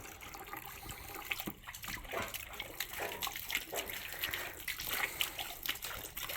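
Water runs from a garden hose with an uneven splashing trickle and bursts of spatter, close and moderately quiet, with no talking.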